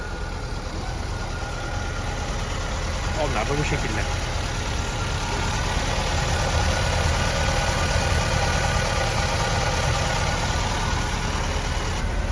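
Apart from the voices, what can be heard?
motorcycle engine idling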